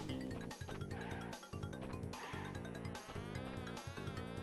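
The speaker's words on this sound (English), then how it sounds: "Let the buzzing guide you and your spins." Bees buzz steadily through a level of the video game Crash Bandicoot 2, set under loud, continuous game music that runs the whole time.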